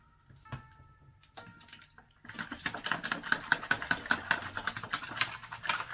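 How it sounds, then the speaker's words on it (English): Trisodium phosphate solution shaken in a gallon jug: after a quiet start, a run of rapid rhythmic sloshing knocks, fairly close and moderately loud, with no voices. "Now that I have all of that in trisodium phosphate in the gallon, what we're going to do is we're going to shake it up."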